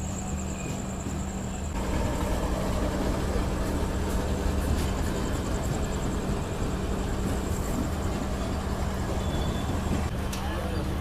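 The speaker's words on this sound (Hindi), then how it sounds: "बस अब अपनी ट्रेन बढ़ रही है लमडिंग जंक्शन रेलवे स्टेशन के लिए। स्लो डाउन हो गई है एकदम।" A passenger train slowing on its approach to Lumding Junction station gives a steady, moderate rumble with faint rail clicks and hiss, under someone talking throughout.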